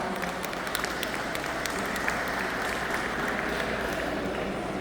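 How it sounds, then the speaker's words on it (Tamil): Audience applause at a dance performance, dense steady clapping from a crowd lasting several seconds. "Give them another round of applause."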